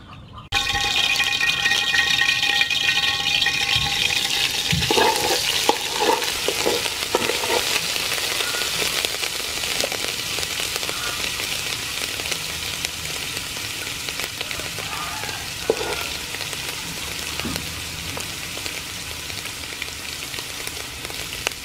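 Food fries in oil in a pan with steady stirring for a Khmer dish, a continuous close sizzle broken by scraping and clattering strokes, loud at first and easing slightly over time.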